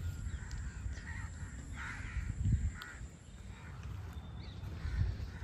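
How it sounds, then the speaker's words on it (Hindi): Crows caw repeatedly from a village rooftop near a temple and a river under a cloudy evening sky. The calls are moderately distant, with a low rumble of wind or traffic underneath. "और कागा की आवाज़ सुनाई दे रही होगी"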